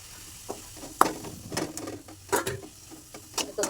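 Chopped onion, crushed garlic, crushed ginger and green chilli sautéing in oil, a soft crackle broken by irregular stirring scrapes and spoon knocks against the pan.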